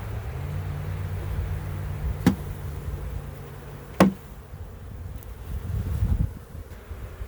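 Honeybees from a nuc colony shaken off a hive frame during a move to ten-frame deep boxes, a steady low insect hum with two sharp knocks of the frame, no talk.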